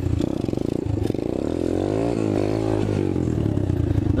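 An Apollo 125cc dirt bike engine runs loud and close, revving up with a rising, wavering pitch during wheelie attempts.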